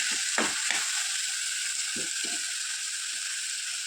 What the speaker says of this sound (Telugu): బాగా ఆయిల్లో వేయించుకోవాలి కూరగాయ ముక్కలన్నీ కూడా